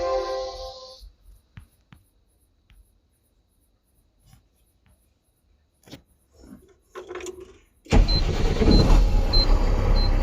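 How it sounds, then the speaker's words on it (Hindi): A Mahindra Blazo BS6 M Dura tipper truck with a P0344 fault and long-cranking trouble sits through a few quiet clicks and taps, then its diesel engine catches abruptly and settles into a loud, close, steady idle. "ये गाड़ी तुरंत स्टार्ट हो जा रहा है अभी"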